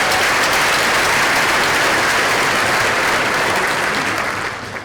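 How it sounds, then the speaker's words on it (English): A large audience at a school district keynote gives the Driscoll Rangers of Driscoll Middle School a round of applause, with loud, dense, sustained clapping that fades slightly at the end. "Let's give the Driscoll Rangers a round of applause."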